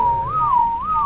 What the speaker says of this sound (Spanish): Disculpen el chiflido.